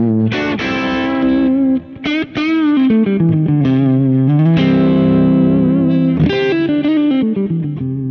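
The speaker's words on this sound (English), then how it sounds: "It sounds like it's almost not there because I'm cutting so much mid-range here." Distorted electric guitar played through a Kemper amp with heavy EQ cutting the mid-range, giving a thin, scooped tone as bent notes and sustained lines ring out with effects and reverb, loud and alone.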